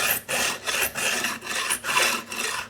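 A file scraping across the frets of a Fender Telecaster neck, repeated rasping strokes in a steady back-and-forth rhythm, close and loud, skating over the wood rather than biting the metal.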